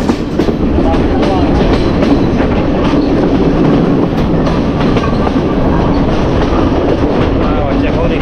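A passenger train runs along a hilly mountain railway, a loud, steady rumble with rhythmic wheel clicks on the rails heard from close by on board, continuous throughout, with faint voices underneath.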